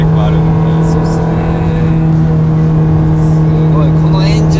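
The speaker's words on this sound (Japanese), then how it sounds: "フェラーリの洗練されてる V8 というか、 振動がこれもろに伝わりますよね。" A loud, steady Ferrari 430 Scuderia V8 engine drones from inside the lightly sound-insulated cabin with a deep, constant hum, and voices can be faintly heard over it.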